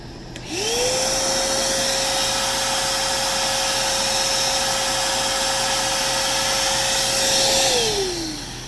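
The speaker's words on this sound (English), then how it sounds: "And it's running my shop vac." A shop vacuum powered through a power inverter whines up to speed and runs with a steady, loud high-pitched drone for several seconds, then winds down at the end.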